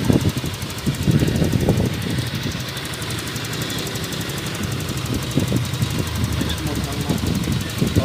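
Honda Beat Fi scooter engine idling steadily after a valve clearance tune-up set to standard, a continuous close mechanical hum with light ticking, while people talk over it at intervals.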